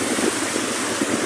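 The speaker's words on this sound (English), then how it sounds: "Look at the big sets rolling in, man." Large ocean waves at Lucy's Beach, Greenough, a loud continuous roaring wash of surf with no distinct individual breaks.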